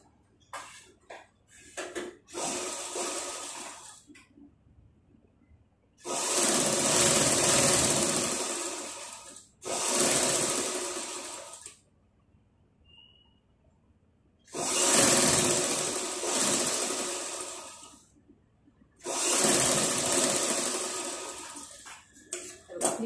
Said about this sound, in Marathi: आधी वरच्या साईडने आपण स्टिच करून घेऊया त्याला.